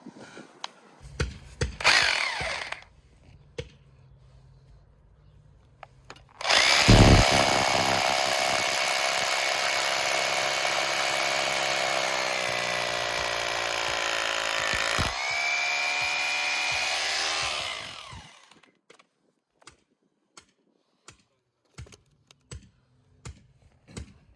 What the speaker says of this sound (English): I'll drill the other screw through to the other side and tighten it up